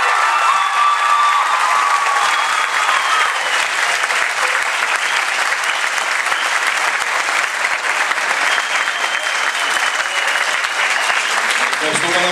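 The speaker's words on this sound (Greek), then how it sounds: "Ένα μεγάλο χειροκρότημα για το σκηνοθέτη φίλο" Loud, long applause from a school theatre audience for the director of a student circus production, dense clapping mixed with cheers and a few whistles from a packed hall.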